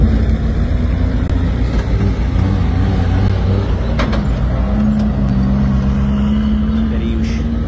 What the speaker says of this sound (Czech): Do bivaku pomalu přijíždějí první auta.